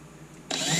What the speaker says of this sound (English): drill all the holes along the back to help hold it in place